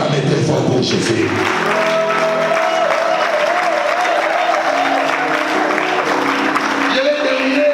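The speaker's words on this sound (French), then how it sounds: "Est-ce qu'on peut acclamer très fort pour Jésus?" A church congregation applauds and cheers loudly for Jesus, with sustained clapping and crowd noise filling the room and music tones rising underneath.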